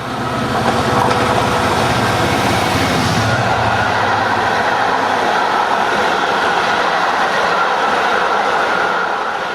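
A charter train rumbles past at speed on a UK line, a loud, steady roar of wheels on rails with faint rhythmic clatter throughout.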